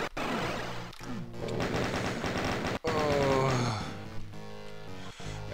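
Doom II weapons fire in a dense, sustained barrage of rapid shots lasting several seconds, with a brief gap midway, loud and continuous and mixed with game effects.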